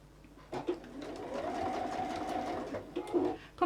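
A sewing machine stitches a fabric circle down on a sunflower pouch, a steady close whirring run of about two seconds framed by soft handling clicks and a faint murmur.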